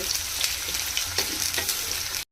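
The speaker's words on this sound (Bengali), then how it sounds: "পেঁয়াজগুলো হালকা করে ভেজে নিব" Chopped onions fry in hot oil in a frying pan, a dense steady sizzle with light stirring ticks throughout before cutting off abruptly at the end.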